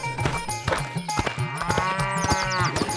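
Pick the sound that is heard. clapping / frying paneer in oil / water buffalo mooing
water buffalo mooing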